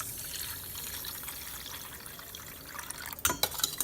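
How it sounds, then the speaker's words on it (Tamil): Water is poured into freshly squeezed lemon juice in a glass for a homemade drink, a quiet liquid trickle that swells into a brief louder splashing burst near the end, with no speech. "தண்ணி ஊற்றிடுங்க"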